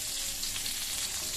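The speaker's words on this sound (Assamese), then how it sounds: "পটলখিনিও মই অলপ ভাজি লম" Pointed gourd and potatoes fry in a pan with a close, steady crackling sizzle, brief and continuous with no talking.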